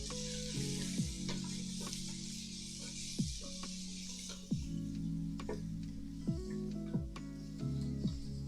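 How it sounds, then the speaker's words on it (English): A spoon stirs a pot of stew with leeks, passata and stock, giving soft scraping strokes repeated every second or so over a steady low simmering hiss, close and moderately quiet. "So I'll stir this."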